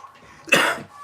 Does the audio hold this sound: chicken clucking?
no